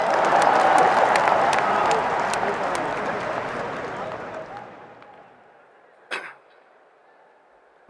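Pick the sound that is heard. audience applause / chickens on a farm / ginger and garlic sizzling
audience applause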